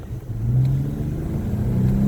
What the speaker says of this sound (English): Speed up to 30, and then we're gonna slow down all the way to 5